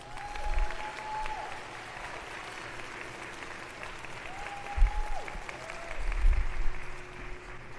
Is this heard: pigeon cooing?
no